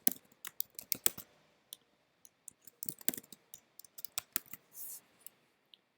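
A password is typed on a computer keyboard: quiet, close clicks and key taps in irregular bursts with short pauses between them, and nothing else is heard.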